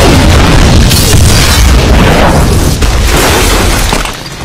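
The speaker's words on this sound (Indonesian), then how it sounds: "bomnya pun meledak dan membunuhnya" A massive, loud explosion roars with a deep boom and crackling debris that rumbles on for several seconds before fading slightly at the end.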